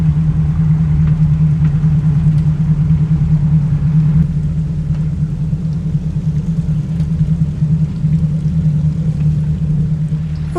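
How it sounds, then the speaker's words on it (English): Steady close low engine drone and hull rumble from a motor boat with digital controls and hydraulic steering chugging across Denia Harbour, continuous and even throughout with no talk. "we're underway. We're just chugging across Denia Harbour"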